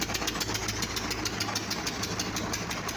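A small single-cylinder diesel engine from a walk-behind tractor, fitted in a ZAZ-968M car, runs steadily up close after warming up, its rapid rhythmic knocking pulses repeating evenly over a low rumble, with no talking.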